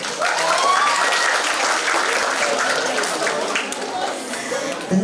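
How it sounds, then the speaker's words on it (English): Steady applause from a seminar audience on community empowerment and public health, welcoming a speaker to the stage; dense, even clapping fills the whole stretch at close range, with faint voices mixed in. "Let's give a big round of applause."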